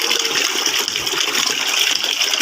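Water gushes steadily from a hose or tap into a 16-liter container for a homemade chili-pepper insecticide, a continuous close splashing rush with no pauses and no talking.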